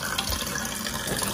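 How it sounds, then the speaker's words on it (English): Tap water running steadily into a sink, a constant broadband rush that stays even and close for the whole short stretch. "you have to turn off the water"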